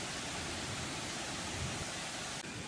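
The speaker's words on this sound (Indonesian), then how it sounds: "Atuk parking betul-betul kat tepi air terjun ni ha." A waterfall at Hutan Lipur Bukit Hijau forest recreation area, heard from the car park right beside it, gives a steady, even wash of broadband roar. It sounds soft and constant with no voices.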